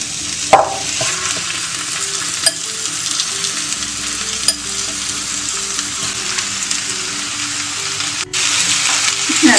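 Marinated chicken frying in hot oil in a pan, with a steady loud sizzle and occasional stirring scrapes and clinks, no talking.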